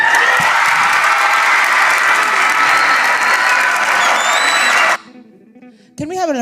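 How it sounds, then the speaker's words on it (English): Dense, loud audience applause with some cheering that cuts off abruptly, followed by a brief quiet gap and a short burst of other sound. "Can we have a round of applause, please?"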